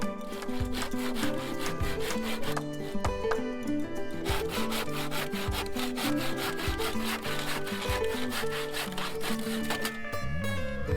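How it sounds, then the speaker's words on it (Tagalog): Hand saw cutting wood while building a steeper roof for a bahay kubo, with steady rhythmic back-and-forth strokes, loud and close, running continuously without talk. "Naglagari pa ulit ako ng dalawa para sa babang part naman."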